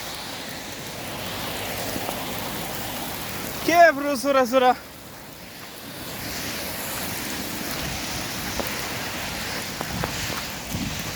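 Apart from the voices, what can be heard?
heavy rain in Al Baha, Saudi Arabia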